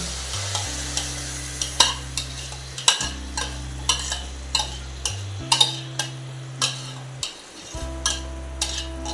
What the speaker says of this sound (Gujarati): હવે ઘી આપણું ઓગળી ગયું છે હવે આપણે આ છીણ નાખી દેવાનું છે